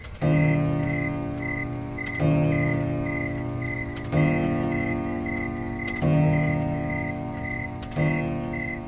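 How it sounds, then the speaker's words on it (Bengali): A clock chimes in a sweet but loud, ringing tone at midnight. Five evenly spaced strokes about two seconds apart each ring out and sustain, with a steady high insect-like chirping pulsing beneath them. "ঢং ঢং ঢং করে 12টা বাজলো"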